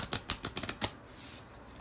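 A deck of indie playing cards riffled in a quick burst of about six crisp, close flutters over the first second, then fading to quiet room noise.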